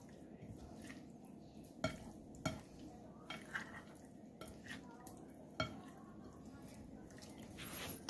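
Soft scraping and occasional clinks of a utensil stirring grilled shrimp in a garlic smoked honey sauce, quiet and close, with a few sharper taps against the dish over a low background hum.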